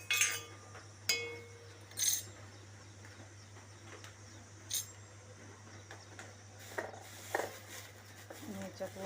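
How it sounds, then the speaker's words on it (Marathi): Whole spices (black pepper, green and black cardamom) are stirred in a hot dry kadhai, giving a few faint, scattered metallic clinks and scrapes against quiet background hum. "जरा हलवून घेऊया"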